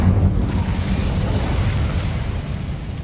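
An Incendio fire spell is cast in Hogwarts Legacy, a loud, close whooshing blast of flame that rumbles steadily and slowly fades, heard alone.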